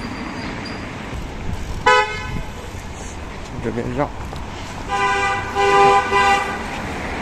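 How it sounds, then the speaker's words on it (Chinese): Car horns honk on a road by a riverside, several sharp toots in separate bursts, one long blast near the end, while a person talks nearby. "我就特别反感这些车没事干就鸣笛"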